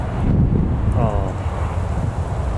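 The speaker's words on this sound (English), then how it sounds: "that wind is certainly getting windier" Strong wind buffets the microphone at an airport, a steady low rumbling roar throughout, with a brief faint tonal sweep in the middle.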